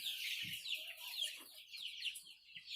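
Laying hens cluck softly inside a poultry shed fitted with nests on a Rio Grande do Norte farm. Several birds make overlapping quiet chirps and murmurs, with one or two low thumps, and no voices.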